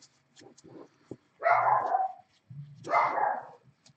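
Dogs bark in the background of an indoor room: two loud, rough barks stand out among a few fainter yips and short sounds, with no speech over them.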